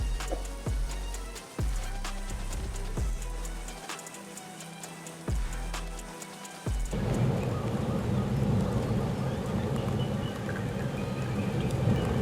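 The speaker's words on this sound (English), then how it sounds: "The howling wind and torrential rain obliterated everything in their path." Torrential rainstorm during a natural disaster, a dense steady roar of heavy rain and wind filling the whole clip, with several sharp low booms in the first half before the downpour swells louder and unbroken.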